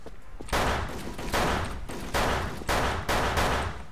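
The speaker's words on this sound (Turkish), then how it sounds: "Sen o silahı oradan nasıl sıkıyorsun ya?" Video game gunfire rings out in repeated bursts, with loud volleys of automatic shots recurring roughly every second across the stretch, no voices on top.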